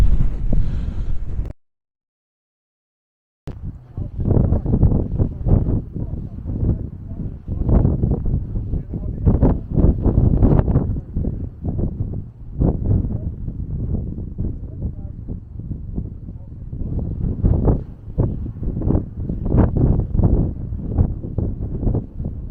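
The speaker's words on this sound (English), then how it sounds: "I hope you can hear me in this wind." Strong wind buffets the microphone on an exposed hill ridge, a continuous loud low roar with gusty surges lasting the whole time, broken only by a brief cut near the start.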